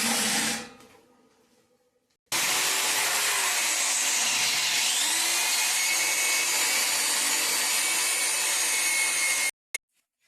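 A power drill or driver runs continuously for several seconds while screws are driven to fix a stand in place, a loud, steady whine with slight pitch shifts, after a faint short buzz at the start.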